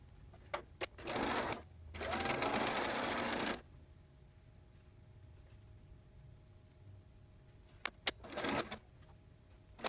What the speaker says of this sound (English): Or if you're comfortable without pins, just go ahead and sew it